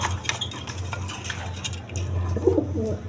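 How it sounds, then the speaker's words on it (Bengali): Maltese pigeons, a male and female running pair at a pigeon sale, give low steady cooing that rumbles continuously through the whole stretch, with faint clinks and bits of background noise above it. "দেখেন মাল্টেস কবুতর।"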